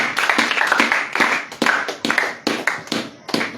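A church congregation claps in praise of the Lord, a loose, uneven run of hand claps with sharp repeated bursts swelling and fading, close and lively, with no voices over it.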